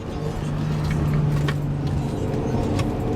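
Infiniti G35 engine blipped during a downshift while cornering, a short rising rev over steady in-cabin engine drone.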